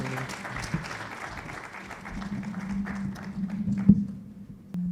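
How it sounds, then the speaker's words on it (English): An audience at a welcome and training event gives a round of applause, a soft, dense patter of many hands at middle distance that fades out after a few seconds. "Can we give her a round of applause?"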